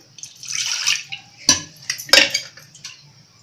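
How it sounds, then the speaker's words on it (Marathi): Water is poured into a cooking pan of white peas curry, with metallic clinks and splashes from the pan and utensils in a short, close burst with no voices. "पाणी टाकते थोडं"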